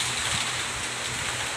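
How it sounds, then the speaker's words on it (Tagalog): Steady rain falling, a broad constant hiss with faint low patter underneath, no voices. "Umuulan na po siya."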